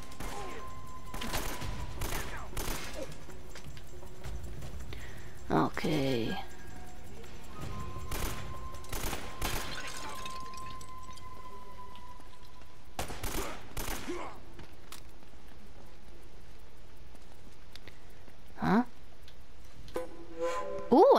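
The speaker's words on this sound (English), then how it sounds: "I got a machine gun." Bursts of machine gun fire and scattered gunshots in the action-adventure video game Uncharted, a few loud volleys spread across a steady game soundtrack, with someone talking over the gameplay.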